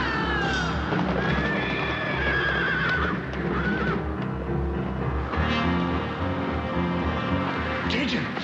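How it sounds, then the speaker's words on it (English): Horses neigh and whinny repeatedly amid hoof clatter as they break loose in a thunderstorm, loud and continuous over a busy dramatic score. "The horses are loose."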